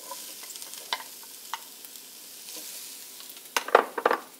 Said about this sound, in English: You wanna just get the nice saute going